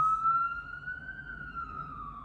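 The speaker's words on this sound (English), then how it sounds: "just because I heard the sirens" A single wailing emergency siren sweeps slowly up and down in pitch, fairly faint and distant over a low background rumble.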